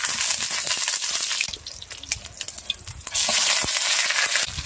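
Pork hock searing in hot rapeseed oil in a wok, cooked outdoors at a rainy mountain campsite: a steady hissing sizzle with crackles, louder at start and end with a quieter stretch in the middle, and no voices.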